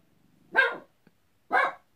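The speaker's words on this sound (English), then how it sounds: "There goes my dog barking." Two sharp dog barks about a second apart, fairly close and clear, with quiet between them.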